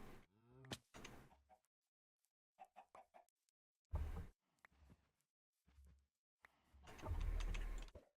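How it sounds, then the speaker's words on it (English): Chickens in a video game give short, scattered clucks and squawks, separated by stretches of near silence and a few louder thumping bursts; no one talks. "We'll spawn more chickens."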